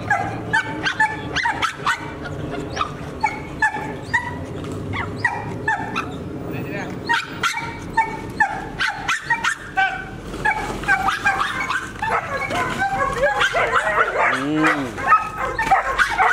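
A protection dog in attack training barks in rapid, loud bursts mixed with whimpers and yips. The barking runs steadily throughout, close by, while people talk and shout over it.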